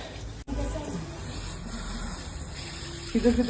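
Water sprays steadily from a salon hair-wash shower head as a bride and groom have their hair rinsed, a constant close hiss with a brief cutoff early and faint murmuring toward the end.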